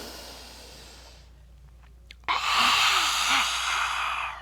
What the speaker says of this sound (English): Take a deep inhale. Exhale. Again. Big exhale.